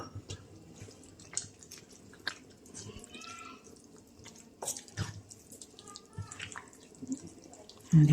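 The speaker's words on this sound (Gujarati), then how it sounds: "હજી આપણે થોડુંક પાણી એડ કરશું" Water trickles and drips into handvo batter in a kitchen bowl, soft and close with faint handling noises.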